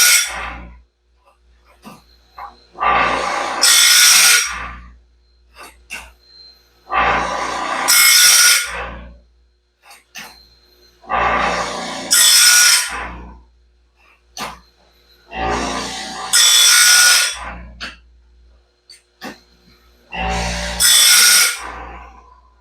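New Norwood Stellite bandsaw bands being ground on a standard grinding stone, with five long, loud abrasive grinding passes separated by pauses and small knocks, all close up.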